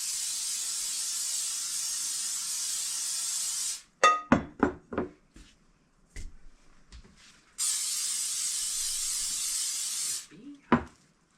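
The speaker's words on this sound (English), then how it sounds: "I'm gonna go ahead and spray my bowl" Cooking spray hisses in two long steady bursts into a glass bowl, loud and close, separated by a few clinks and handling knocks.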